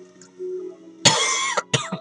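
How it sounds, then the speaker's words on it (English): A single harsh cough bursts out close up, followed by a second shorter cough after a brief pause. "And I still got a bad cough"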